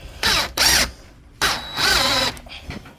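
A handheld power drill driving a screw into wood for a homemade tree-mounted punching bag hanger, pressed down under body weight; two short bursts of whirring, a pause, then a longer run of two bursts followed by a few faint clicks.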